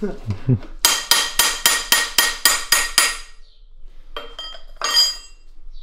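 About nine sharp, ringing strikes of a metal wrench on metal come in even succession, followed by a pause and then a couple of lighter metallic clinks.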